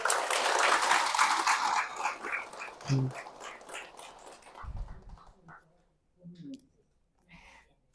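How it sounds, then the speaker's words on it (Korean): Audience clapping in a church hall during a talk, a dense burst of hand claps that fades after a few seconds into scattered claps, with the speaker's voice resuming underneath. "박수 보내드려요. 박수 한번 쳐주세요."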